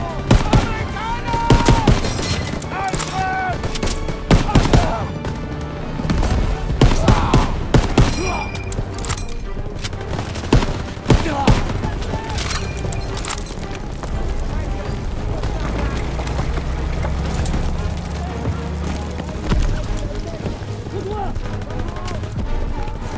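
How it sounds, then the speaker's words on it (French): Machine gun fire in the World War II shooter Call of Duty WWII: dense, loud bursts and overlapping gunshots over a steady battlefield rumble with booms, while soldiers shout throughout. "Impossible d'avancer, ces mitrailleuses tirent sur notre position!"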